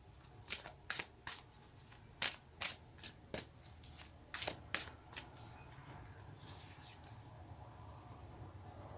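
A deck of tarot cards shuffled by hand for a reading, a quiet series of sharp riffling snaps and flutters in irregular bursts, close by, with no talk.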